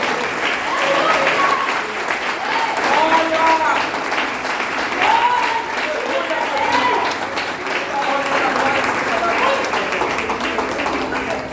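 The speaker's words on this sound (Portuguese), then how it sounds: "Tem uma salva de palmas a Jesus pelos louvores." A church congregation at a family worship service claps steadily in sustained, even applause, with voices and crowd murmur mixed in throughout.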